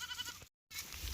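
A sheep suffering in the hot sun bleats faintly in two short, quavering calls separated by a brief silence.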